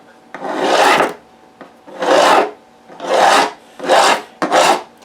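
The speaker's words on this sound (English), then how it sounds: "you can actually hear the resistance to the file as you get closer to the mark" Five rasping file strokes scrape back and forth at an even rhythm as a file cuts a Martin guitar's nut slot, close and loud, with short pauses between each pass.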